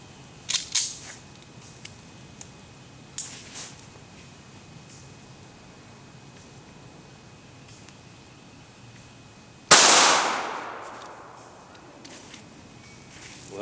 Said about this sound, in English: we're gonna fire it today through 4 layers of denim calibrated gel